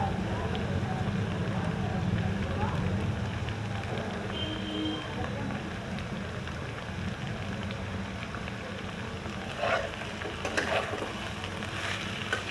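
Carrot, capsicum and chopped ginger stir-frying in a pan, giving a steady, moderately loud sizzle and clatter throughout with a few brief sharper scrapes near the end.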